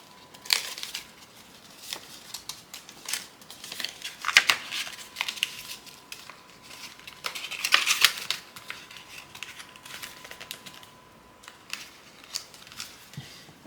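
Cardstock Mickey gift card holder being folded by hand, with crisp paper crinkles and creases coming in scattered bursts, close and moderately quiet, with no talking.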